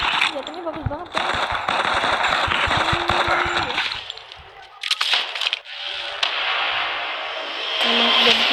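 Weapon fire in the video game PUBG, sustained rapid bursts of loud crackling gunshots with game sound effects, under a voice talking over most of it.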